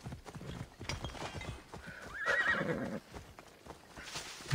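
Clip-clopping horse hooves close by in the video game Assassin's Creed Odyssey, with a horse neighing loudly midway, the trotting continuing around it.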